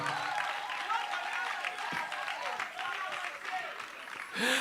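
A church congregation claps and cheers together in worship, a dense continuous wash of applause with voices mixed in, steady throughout and swelling briefly at the end.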